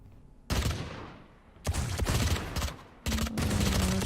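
Gunfire in the tactical shooter Valorant during a tournament match: three loud, sharp bursts of automatic shots with short gaps between them, close and punchy against a quiet game background.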